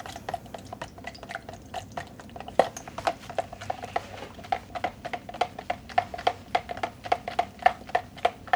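A utensil stirs a yarn dye mixture made with sodium alginate in a container, producing steady rhythmic clinks and liquid slaps repeating about twice a second, close and fairly loud, with no talk.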